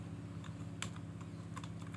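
Rapid, light key clicks from a computer keyboard, typed in quick irregular bursts close to the microphone over a steady low background hum.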